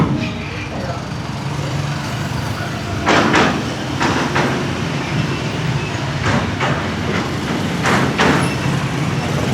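Sliding doors on a Malaysian passenger train opening, heard as a few sharp hissing bursts over loud, steady carriage rumble while people talk nearby.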